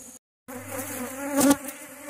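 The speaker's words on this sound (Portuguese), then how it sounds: "Estamos colocando aí a alimentação para as abelhas." Africanized honey bees (Apis mellifera) droning steadily at a hive in Bahia, Brazil, during feeding; a close, continuous buzz fills the clip after a brief silent gap, with a slightly louder swell near the end.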